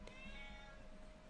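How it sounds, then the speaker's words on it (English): Single house cat giving a short, faint meow close by, a brief tonal call against a steady background hum. "That is my cat."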